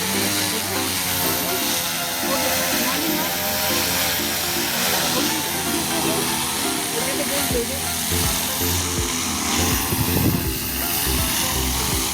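A small drone hovers and flies under steady propeller whine with stacked buzzing harmonics, loud and continuous for the whole stretch, wavering slightly in pitch as it maneuvers, with a louder burst near the end.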